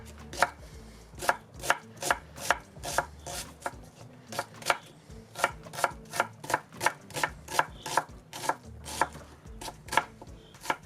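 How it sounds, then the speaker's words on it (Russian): Knife chopping onion on a cutting board, a steady series of about twenty-five sharp, close taps in even rhythm, with no voices. "Репчатый лук можно резать полукольцами, кольцами, кубиками"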